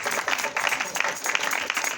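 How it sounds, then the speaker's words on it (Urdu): Loud applause from a congregation at a Good Friday church meeting, uneven clapping with sharp accents and a busy, rough texture. "زوردار تالیاں"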